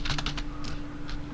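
Quick keystrokes on a computer keyboard as an answer is typed into an online quiz: a rapid run of soft, close clicks, then a pause and one more tap, with no talk.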